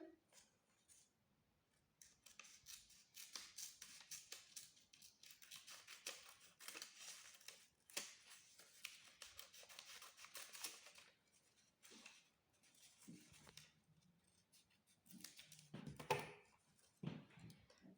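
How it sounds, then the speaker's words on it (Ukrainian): Scissors cut through a folded paper quadrilateral for a paper appliqué doghouse roof, giving a series of quiet, close snips and crisp paper rustles with short pauses between the cuts. "зігнула навпіл його, розрізаємо ножицями."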